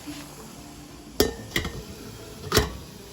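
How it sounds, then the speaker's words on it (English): Glass jars of jalapeño pickles set down into a steam canner: three sharp, close clinks of glass and metal, the last a lid dropped back onto the pot, over faint kitchen background. "take off the lid, put these jars in here. Put the lid back on."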